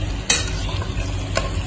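A spoon stirs mutton curry masala in a pressure cooker, giving a steady close sizzle with two brief scraping knocks of the spoon against the pot.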